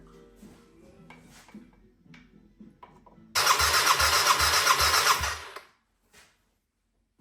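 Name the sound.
Yamaha XS400 motorcycle engine starting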